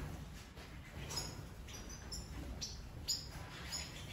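Siskins, a pair with their young, chirp inside a cage, giving short high tweets scattered over a steady background hiss.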